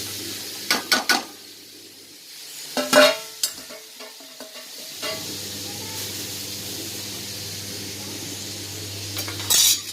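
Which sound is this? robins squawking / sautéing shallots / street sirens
sautéing shallots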